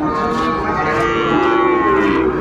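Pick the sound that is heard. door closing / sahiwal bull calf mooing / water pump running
sahiwal bull calf mooing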